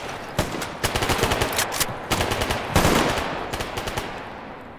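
Gunfire in the video game S.T.A.L.K.E.R. GAMMA, with close, loud bursts of rapid automatic shots in several clusters separated by short pauses.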